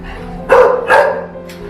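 Dogs in an animal shelter kennel ward give a few loud, close barks, two strong yelps then a fainter third, over a low room hum.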